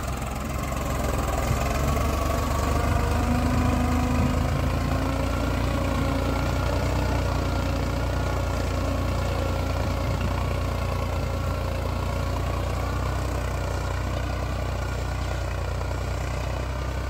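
A Farmtrac 60 T20 Powermaxx tractor engine with a tiller runs steadily in second gear at a constant, throaty drone, close by and unbroken, with a low mechanical hum that holds level throughout.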